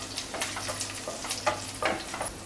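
Garlic cloves, two dry red chillies and half a spoon of cumin sautéing in a pan, a soft steady sizzle with faint stirring scrapes, close and continuous with no talk.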